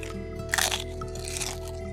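Bones being chewed, as a horror sound effect: a short, loud wet crunch burst rises over a steady low background hum, then fades into softer gnawing texture.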